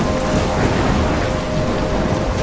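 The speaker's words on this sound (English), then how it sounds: "I'm trapped in a storm?" A thunderstorm in the video game Life is Strange Remastered: steady, loud, dense rain noise with a low rumbling undertone, continuous with no breaks and no voices.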